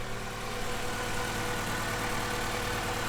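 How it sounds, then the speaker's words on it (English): A Honda B18C engine idles steadily up close after its first start, a constant mid-low drone with a faint rattling vibration and no voices; the exhaust has a leak. "Engine sounds good."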